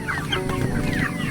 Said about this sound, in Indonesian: Lihat ayamnya banyak ya, lagi minta makan.